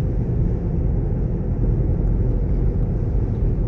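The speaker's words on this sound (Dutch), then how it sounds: "Het enige wat je eigenlijk hoort is een heel klein beetje windruis en het geluid van de banden" Constant low rumble of road and tyre noise with a soft wind hiss, heard from inside a moving 2024 Tesla Model Y, steady and unbroken.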